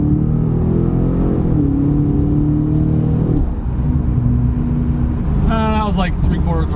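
Ford Raptor pulling away from a green light at three-quarter throttle, a deep engine drone climbing in pitch through a shift, heard close from inside with a brief whine near the end.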